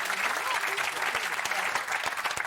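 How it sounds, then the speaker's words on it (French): A studio audience applauds a young guest on a talk show, a dense continuous patter of clapping at moderate level throughout. "On peut l'applaudir."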